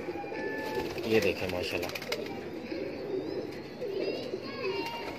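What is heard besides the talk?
Salara teddy pigeon cooing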